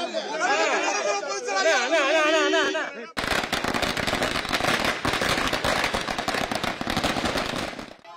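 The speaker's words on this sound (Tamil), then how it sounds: "இபிஎஸ் இல்லத்தில் அதிமுக தொண்டர்கள் இனிப்புகளை வழங்கியும் பட்டாசுகளை வெடித்தும் உற்சாகமாக கொண்டாடினர்" Firecrackers set off by party workers celebrating at a leader's residence, bursting in a dense rapid crackle of loud pops for several seconds after a stretch of crowd chanting and shouting.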